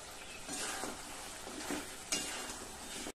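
Chicken frying in a pan with garlic, ginger paste, chili powder and turmeric, stirred steadily; a constant close sizzle with scraping strokes of a spatula and one sharper clink of utensil against the pan.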